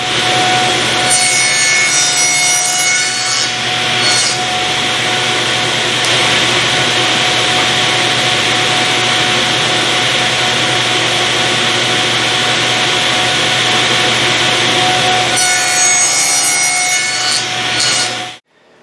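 A table saw cuts a tenon in wood for a phone stand, a loud steady whine with sawing texture running continuously for most of the stretch before spinning down at the end.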